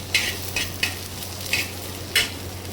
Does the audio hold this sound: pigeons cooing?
no